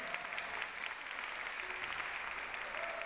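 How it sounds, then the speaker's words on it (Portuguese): Steady audience applause for a band at a church gathering, a dense even clapping that runs throughout at moderate loudness with no voices over it. "uma salva de palmas para essa banda maravilhosa"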